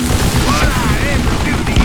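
Rapid gunfire from the Western shooter Call of Juarez: Gunslinger, a loud, dense burst of shots filling the whole moment with no voice over it.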